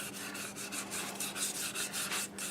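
Turned wood is sanded by hand with 500 grit sandpaper, slowly and under light pressure, in a soft, rhythmic rubbing with no talk.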